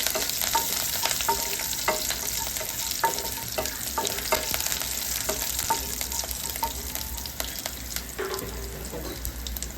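Dry coconut slices with green chillies stirred in a hot pan for Vidarbha-style chana dal chutney, giving a steady close sizzle with repeated scraping strokes and no talk.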